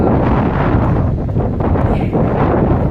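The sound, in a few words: wind blowing outdoors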